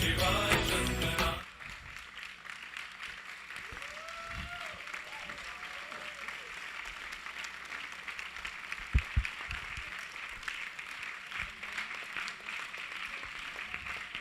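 Steady, dense applause from a live audience after a devotional performance at an evening cultural program, sustained and even for a long stretch with faint voices mixed in.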